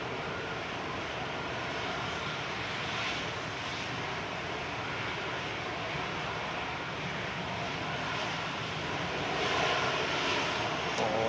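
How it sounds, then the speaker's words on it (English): A Ryanair Boeing 737-800 airliner lining up on the runway at Manchester Airport gives a steady, distant engine roar under a broad hiss, swelling slightly near the end. "Lining up now though from Victor Bravo's Ryanair 8358 to Budapest, 9H QEC 737-800."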